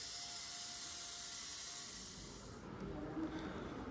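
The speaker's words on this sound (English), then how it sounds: "Fiber spraying, as shown here, is carried out exclusively by trained employees with many years of experience." Industrial fiber spraying machine laminating a container for pool and process water filters, giving a steady close hiss and spray rush that fades partway, then gives way to low rumbling.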